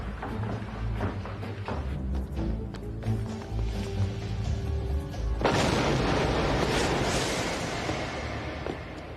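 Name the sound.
explosion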